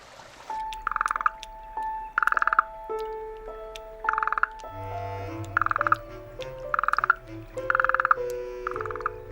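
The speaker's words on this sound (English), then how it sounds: "the burrowing frog awakes from its long sleep" An Australian burrowing frog emerging underground calls in a series of short, rapid rattling croaks repeated in regular bursts, set against soft tonal music and quiet water sounds in the background.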